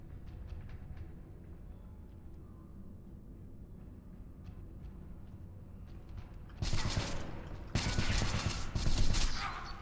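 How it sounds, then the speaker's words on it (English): Gunfire in the sci-fi shooter Interstellar Marines: faint scattered shots early on, then two loud, harsh bursts of fire in the latter seconds. "the pistol seems to have far louder sound compared to the rest of the guns"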